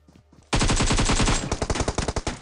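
Automatic gunfire rings out in Battlegrounds Mobile: a short quiet lead-in, then a loud, rapid, dense burst of shots for about a second, followed by a slightly slower string of distinct close shots.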